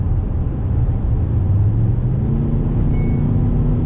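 Škoda Kodiaq RS 2019 SUV accelerating hard from highway speed, a steady loud engine drone with rising low hum and road and wind roar throughout, no voices.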